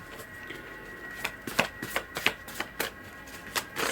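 Tarot cards being shuffled in a series of quick, crisp riffling bursts, fairly close and fairly quiet, with no talking.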